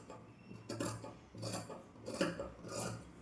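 Scissors cut through blouse fabric in quiet, close snips, four evenly spaced crisp cuts with a faint metallic edge and no voices.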